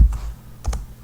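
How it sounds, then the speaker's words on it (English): A few light, scattered clicks come from a computer keyboard as figures are typed in during a statistics problem, sounding close and soft over a low background hum. "we're just typing in the information"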